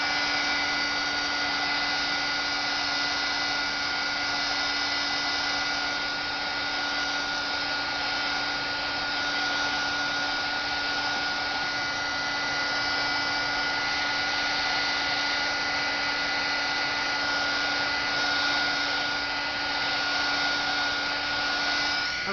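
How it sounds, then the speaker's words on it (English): A heat gun blows steadily for over twenty seconds while drying alcohol ink on coffee-dyed paper, a constant loud whirring hiss close by with a fixed motor hum, no speech. "you just hit it with the heat gun"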